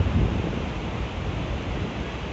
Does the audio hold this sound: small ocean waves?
yes